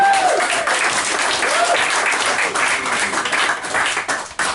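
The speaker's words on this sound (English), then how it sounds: "Let's have a clap for Jay" An audience at a Pauline Quirk Academy talk for actors applauds performer Jay Coward, a full, steady round of clapping and a few whoops. It thins and turns patchy near the end.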